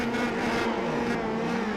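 Race cars spinning donuts in a racing video game, a continuous buzzing engine drone holding steady at a high pitch for the whole moment, with no talk.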